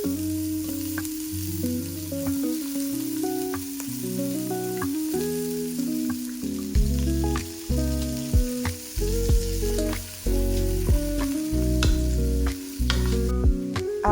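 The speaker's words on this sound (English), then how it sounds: "I heat up some oil, chop up some onions. I saute them until they're translucent" Chopped onions sauté in hot oil for jollof rice, a continuous sizzle with occasional stirring clicks and scrapes over a soft tonal backing.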